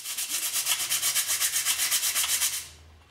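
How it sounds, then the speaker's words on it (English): Rhythmic back-and-forth hand-sanding strokes rasp on a vintage bicycle's mudguard at a quick, steady pace, close and moderately quiet, stopping after about two and a half seconds. "I'm in the process of sanding the mud guards of the rally bike"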